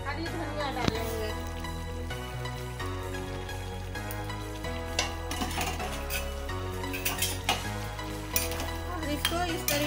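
A potato and tomato curry with fresh green coriander is stirred in a pan, with soft scrapes and light clinks over a gentle sizzle, all under continuous music.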